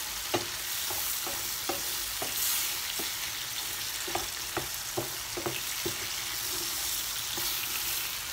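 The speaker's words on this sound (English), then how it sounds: "Turn the garlic in." Garlic puree sizzles in a hot pan beside steak and shrimp, with a steady frying hiss broken by a series of sharp scraping stirs at irregular intervals, close and clear with no talk.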